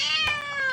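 A single drawn-out cat meow from the video game Angry Cats, sounding as a cat is launched, steady and fairly loud with a brief thump partway through.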